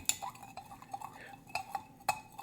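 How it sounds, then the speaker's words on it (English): A spoon stirs sugar and bitters in a glass for a Sazerac, giving a few faint, sparse clinks and taps against the glass. "we muddle it a little bit, stir it up to where the sugar dissolves"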